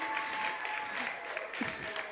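Audience applause at the finals of a singing competition, a brief burst of clapping from a crowd, moderately distant and fairly quiet, with a faint voice mixed in.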